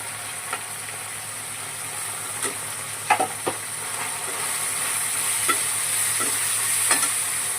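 Onions frying in a pan and being stirred, a soft steady sizzle broken by a few sharp scrapes and taps of the spoon, close and fairly quiet with no talking.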